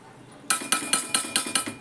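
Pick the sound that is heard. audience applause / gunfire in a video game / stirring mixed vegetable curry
stirring mixed vegetable curry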